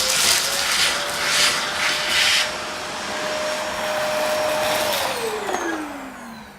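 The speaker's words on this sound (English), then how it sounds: "So we're going to give this a vacuum really quickly." A vacuum cleaner running on the grinder of a Breville Oracle espresso machine, a loud continuous whoosh with a steady whine that drops in pitch near the end as the motor winds down.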